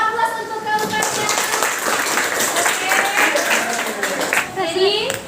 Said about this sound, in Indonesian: Iya, beri aplaus untuk kelompoknya.